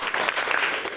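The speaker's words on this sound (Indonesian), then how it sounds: "Ya, tepuk tangan." Applause from a classroom audience after a student group's presentation on the planets, a steady burst of clapping filling the whole second at close range.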